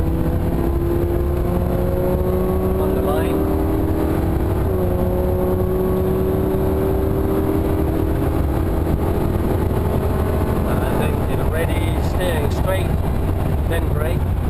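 A race car accelerates along the Thruxton circuit, its engine note climbing steadily under continuous loud wind and road roar, with talk over it.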